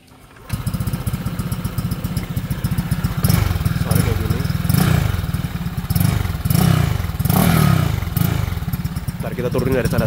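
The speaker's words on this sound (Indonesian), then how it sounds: "Jadi kita denger suara murni dari suara mesin aja, nggak denger suara CVT-nya." Honda PCX motorcycle engine bored up to 175cc with a Byson exhaust runs steadily and loud and close, with repeated revving surges swelling over a rough idle throughout; no one speaks.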